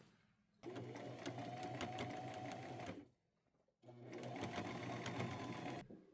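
Sewing machine stitching a small zigzag along the edges of flower appliques on pajama fabric: two steady, rapid mechanical runs close by, separated by a brief pause.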